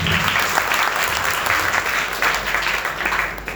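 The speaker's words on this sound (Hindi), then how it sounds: "तालियां बजाइए जोर से" Loud, steady applause from a crowd at an Arya Samaj Shravani festival gathering in Noida, a dense continuous clatter of many hands that holds without a break to the end.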